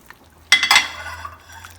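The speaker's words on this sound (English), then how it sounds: "we're gonna add our pre-chopped sausage, and we're gonna add them into the stew" Pre-chopped sausage is tipped into a simmering German eintopf stew pot, making one short, close clattering splash followed by a fading soft bubbling.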